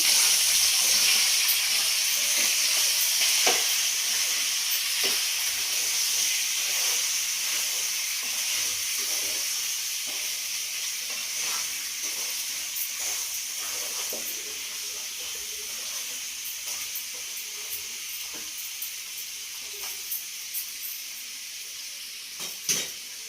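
A steady, gentle sizzle and hiss from a pan of stuffed brinjal curry simmering on low heat, with faint scattered clicks and bubbling throughout, no voices.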